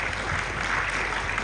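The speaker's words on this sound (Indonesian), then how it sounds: "Tepuk tangan dulu untuk guru-guru." Steady, dense applause from a school crowd for the teachers at a student council inauguration held at the governor's office in Makassar, loud and continuous throughout with no gaps.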